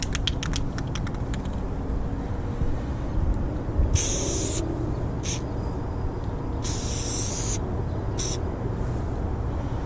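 Rust-Oleum spray paint can fitted with an orange dot black cap, several short hissing bursts of spray, two longer and two brief, over a steady background hum.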